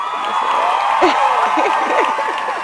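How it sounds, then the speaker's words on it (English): Added crowd applause sound effect, a dense wash of clapping and cheering with a few whoops, steady and fairly loud, with voices talking over it. "I'm adding clapping sounds right in this"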